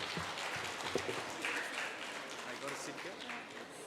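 Audience at the All India Brahmo Conference session in Hyderabad applauds in a moderately loud, continuous wash of clapping, with a voice speaking over it.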